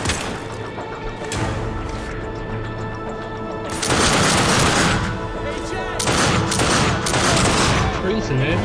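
Gunfire in the video game The Darkness 2, bursts of rapid automatic shots and heavy crashing blasts in several loud clusters over a continuous game soundscape.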